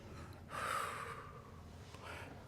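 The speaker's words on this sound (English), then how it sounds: "Deep breath in, and exhale for a final set of" A single breath during a mat pilates class, a sharp inhale followed by a softer exhale trailing off, close but fairly quiet over faint room noise.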